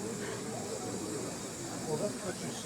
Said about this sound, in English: Just steaming away at the end of the day.